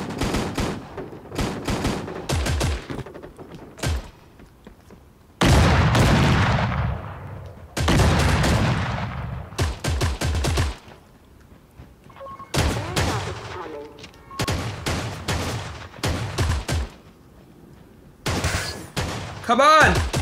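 Bursts of gunfire crack and rattle in FortCraft, a Fortnite-like mobile shooter, with rapid volleys and heavier booming shots in uneven clusters, while a player talks over the action.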